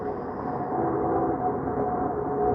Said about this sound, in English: There's still a train going?